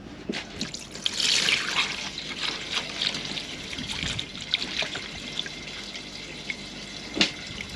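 Diesel trickles and pours steadily through a fine mesh filter and funnel into a boat's fuel tank at close range, a soft continuous splashing with faint clinks and rustles, no talking.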